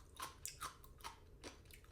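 Someone chews a crunchy celtuce stem that was washed in vinegar, close up, with a run of crisp, wet crunches and bites at an uneven pace and no talking.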